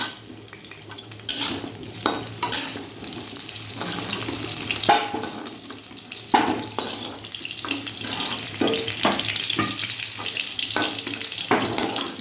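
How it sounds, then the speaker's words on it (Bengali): Potato pieces fry in a pan until reddish-brown, giving a steady close-up sizzle. Scraping and clattering stirs from a utensil sound now and then, and no one speaks. "লাল লাল করে ভেজে আমি আলুটা তুলে রেখে দেবো।"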